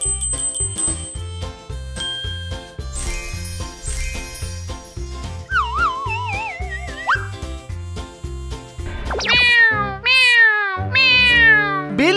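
A cartoon cat meows several times in a room being decorated, the rising, wavering cries landing in the final seconds over bouncy, tinkling background music.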